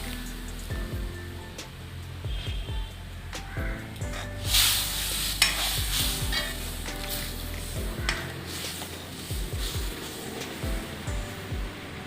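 Cassava masala curry simmers in a pan with a soft, steady bubbling hiss, punctuated by occasional clinks and stirring scrapes, no talk.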